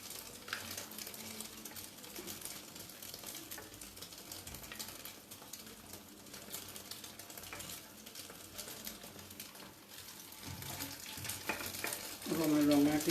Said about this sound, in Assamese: অকণমান ৰঙাকৈ ভাজি লৈছোঁ। ৰঙাকৈ ভাজিলে ভাল লাগে।